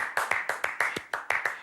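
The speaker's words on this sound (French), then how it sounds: "Alors ça mérite des applaudissements" Sharp individual hand claps salute a chef at the end of a timed cooking challenge. About ten crisp, close claps fall in a loose, steady rhythm with no voices over them.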